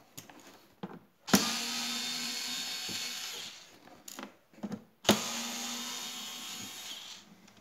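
A TECCPO TDSC01P 6Nm electric screwdriver unscrews in two sustained whirring runs, each starting with a sharp click, separated by short clicks and handling noises, close and fairly quiet.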